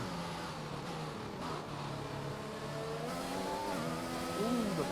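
F1 2021 race car engines scream down the straight at the Hungary circuit in the video game, high-revving tones shifting and layering as cars run close together, steady and loud with a late pitch swoop.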